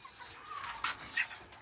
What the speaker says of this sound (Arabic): ده يا جماعة ديك